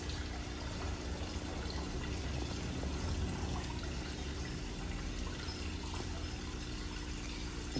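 Steady water flowing and trickling out of a ceramic koi pond filter fed by pumps, with a continuous low wash and rumble that stays even throughout and has no talking.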